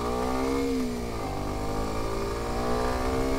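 A Kawasaki Ninja 125 motorcycle engine revs hard under acceleration, a loud, steady, buzzing drone with pitch rising through the gears, heard close from the rider's position.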